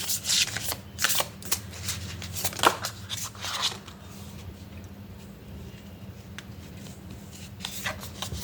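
Tarot cards riffled and shuffled by hand, a burst of crisp flicking and snapping in the first few seconds, then quieter soft rubbing and sliding of the deck, close and faint with no talking.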